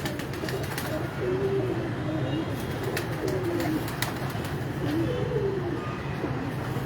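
Breeder pigeons gathered together in one cage coo in repeated low warbling phrases over a constant background rumble, fairly close and moderately loud.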